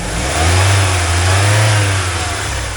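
Engine of a 1997 BMW Z3 E36/7 with the 1.9L M44 four-cylinder revving up from idle and settling back down, loud and close with steady droning tone.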